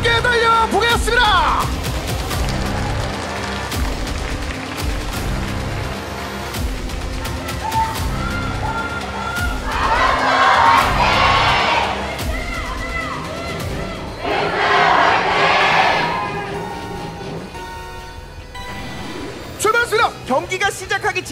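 At an esports team final, a large audience shouts and cheers loudly and continuously, with swells of roaring, while an announcer talks over the crowd noise.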